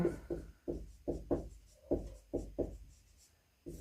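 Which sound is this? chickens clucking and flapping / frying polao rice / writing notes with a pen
writing notes with a pen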